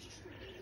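A pigeon coos faintly in a racing pigeon loft, a soft low murmur heard briefly and quietly.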